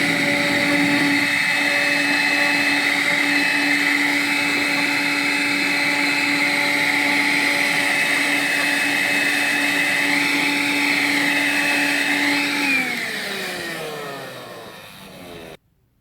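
A vacuum cleaner draws a steady, loud whining hum while suctioning the exterior and filter of a Sanyo XL50; the tone wavers slightly, then the motor winds down and fades out near the end.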